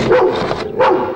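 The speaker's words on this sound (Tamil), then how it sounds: "இது நம்ம டிபார்ட்மெண்ட் மோப்ப நாய்" A police department sniffer dog barks close and loud, two or three sharp woofs with a short gap between them, no voices.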